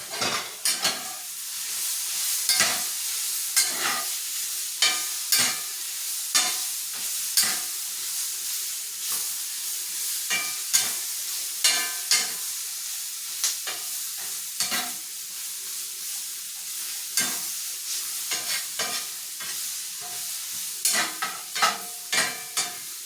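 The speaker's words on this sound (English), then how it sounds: "listen to them sizzle." Beef and vegetables for Philly cheesesteak sizzle steadily in a hot pan while a utensil repeatedly stirs and scrapes, with frequent clinks against the metal.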